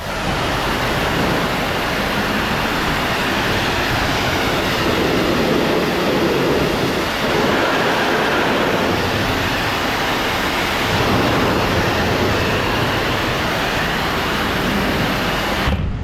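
A pressure washer in rinse mode sprays water across an oxidized mobile home exterior, a loud, steady broadband hiss that holds unbroken for the whole stretch with no talking.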